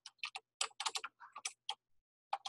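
Quick, irregular keystrokes tap on a computer keyboard in close, crisp clusters, with a brief pause before a final few taps.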